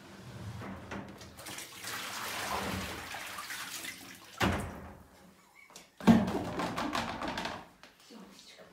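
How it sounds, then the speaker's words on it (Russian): Running water pours with a steady hiss, broken by a couple of heavy thumps and a pause, then flows again, with a voice talking nearby. "Ну, смотри, какая вода."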